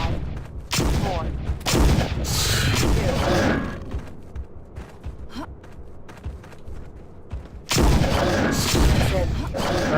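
Gunfire from the first-person shooter Jurassic Park Trespasser, heard as loud bursts at the start and again near the end, with softer clicks and handling noises in the quieter middle stretch.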